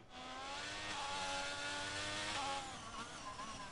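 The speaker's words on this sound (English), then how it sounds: "I can hear a car leaving as well" A revving car engine from a racing game whines steadily, pitch shifting slightly as it pulls away, fairly faint with no talking.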